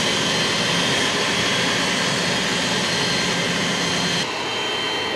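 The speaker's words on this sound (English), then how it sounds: "we are shooting the takeoff of the plane" A passenger airplane takes off from Khorog airport, a loud, steady engine roar holding close for several seconds before easing slightly near the end.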